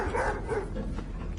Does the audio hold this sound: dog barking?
yes